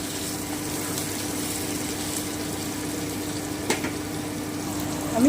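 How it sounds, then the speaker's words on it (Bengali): Kolai dal bori, small sun-dried lentil dumplings, fry in hot oil with a steady, even sizzle and hiss that holds for several seconds. A faint clink comes near the end. "দু মিনিট একটু ভেজে নিলাম"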